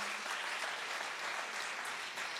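Audience applause at the opening night of the Un état du monde film festival, honoring Mohammad Rasoulof; a dense, steady wash of many hands clapping continuously throughout, fairly distant and even in level.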